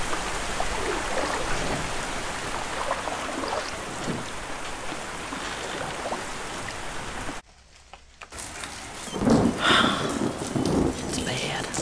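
Rain pours steadily with thunder rumbling in the Into the Dead 2 video game, a dense continuous wash that briefly drops out before returning with deeper rolling rumbles.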